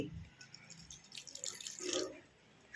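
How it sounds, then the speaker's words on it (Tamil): Water trickles and drips into a pot of jaggery in short bursts, close by, with faint clinking and no talking. "இதில் கொஞ்சம் தண்ணி ஊற்றி"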